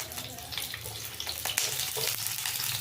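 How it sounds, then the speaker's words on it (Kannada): Onions frying in a pan on the stove for a fenugreek chicken curry, a steady close sizzle with faint stirring clatter and a couple of sharper clinks, no talking. "ಈಗ ಈರುಳ್ಳಿ ಹಾಕ್ಕೊಳ್ತೀನಿ."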